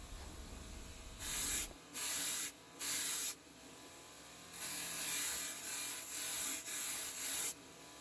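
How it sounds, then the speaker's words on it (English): A belt sander grinds along the edges of steel wire cutters in repeated bursts of about a second each, with quiet pauses between passes and a longer continuous stretch near the end. The hiss is close and loud, with no talking. "it's over the belt sander, and all I'm doing here is just cleaning up the edges"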